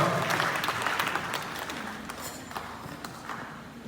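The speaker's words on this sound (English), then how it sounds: "please put your hands together for Madam Fatu one more time" Applause at a skills-centre graduation ceremony, a crowd's steady clapping that is loudest at the start and gradually thins and softens, with a few sharper claps near the end.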